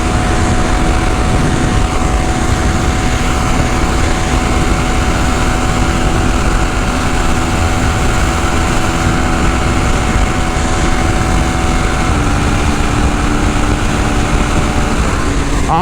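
KTM 390 Enduro R single-cylinder motorcycle ridden off-road, its engine droning loud and steady throughout with wind rush, the pitch holding and then shifting slightly near the end.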